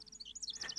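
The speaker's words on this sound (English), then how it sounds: "Hear the birds chirping." Short high chirps from birds in Ace Attorney Dual Destinies, a quick run of bright tweets, faint and alone.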